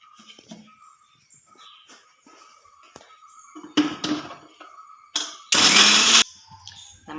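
A kitchen mixer grinder grinding chammanthi (dry coconut chutney) powder in its jar, with short whirring bursts and one loud, sustained grind near the end between quiet pauses and small clinks.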